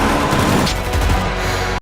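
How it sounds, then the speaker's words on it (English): Dense, continuous gunfire and explosions from a dramatized terror-attack series, with sharp firecracker-like pops over low booming rumble and no reverb, loud and close throughout. "The sound design captures the firecracker-like popping of gunshots and explosions"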